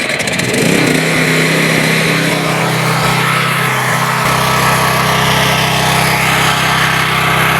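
An engine starts and settles into a loud, steady running drone close by, its low throbbing rumble growing fuller after a few seconds and continuing unbroken.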